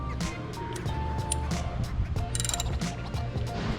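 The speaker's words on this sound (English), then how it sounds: "Now we're just going to tighten it with the ratchet." A hand ratchet tightens a fitting during an oil change on a Nissan GT-R R35, with a brief cluster of close clicking over a steady mechanical hum and a busy background.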